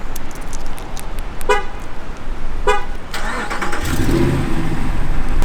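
A Dodge/Ram vehicle answers a key fob remote start outdoors: a couple of short horn toots, then the engine cranks and catches into a steady mid-pitched idle, fairly close amid breezy background noise.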